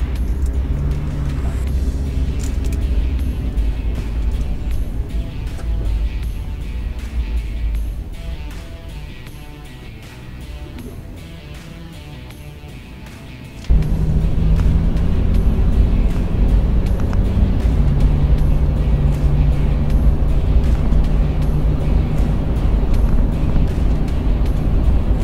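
A Toyota 4Runner on a night test drive gives a steady, close engine and road drone that dips quieter midway, then jumps back louder and holds for the rest.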